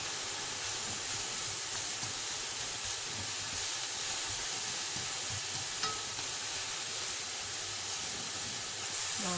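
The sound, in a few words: shrimp and pork with onions frying in pan for banh xeo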